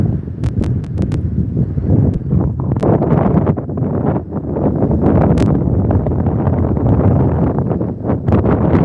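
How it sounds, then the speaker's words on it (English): Strong, steady wind ahead of a big storm roars across the microphone with loud buffeting gusts and a few sharp clicks, continuous throughout. "It's definitely getting windy."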